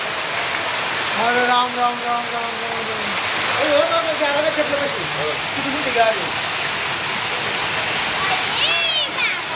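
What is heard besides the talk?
hailstones falling on steel during heavy rain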